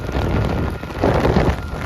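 Steady rain hisses on the road in the darkness near Dwarka, a dense, even wash of sound that swells slightly midway, with no voices.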